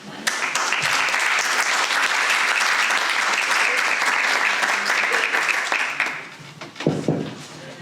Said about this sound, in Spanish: las recibimos con un fuerte aplauso